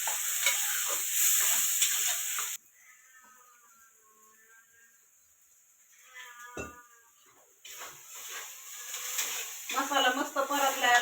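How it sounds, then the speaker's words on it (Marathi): Ground masala paste frying in oil for misal sizzles loudly at first, drops to a quiet stretch with a brief clatter, then returns as bubbling, spitting frying with stirring scrapes near the end. "आता वाटण टाकते वाटलेलं. मस्त असा मसाला परतून द्यायचा"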